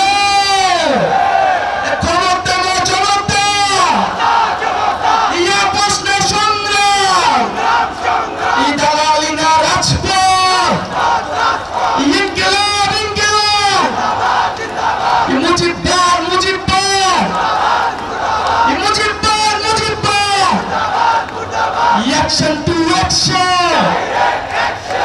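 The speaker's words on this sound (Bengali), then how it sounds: "চট্টগ্রামবাসীকে স্লোগান দিবে" A large crowd at a political rally in Chattogram chanting slogans in call-and-response, a leader's amplified voice alternating with loud, rhythmic group shouts that repeat roughly every three seconds throughout.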